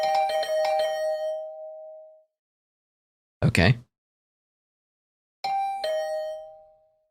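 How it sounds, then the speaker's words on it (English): A doorbell chiming in the video game The Hundred Line, a bright ringing tone struck in quick repeated bursts that fade out, separated by a pause and a single short spoken word. "the sound of my doorbell ringing over and over"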